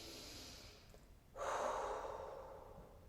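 A single deep, slow breath taken during a full-body stretching routine, starting as a quiet inhale and swelling into a louder, breathy exhale close to the microphone, with no talking.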